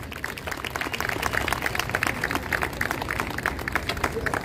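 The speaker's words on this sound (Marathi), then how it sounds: "सर्वांनी जोरदार टाळ्या वाजवा." Audience clapping at a ceremony honouring a guest on Constitution Day, a steady dense patter of many hands held at an even level for a few seconds.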